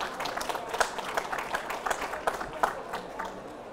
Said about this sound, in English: you deserve a round of applause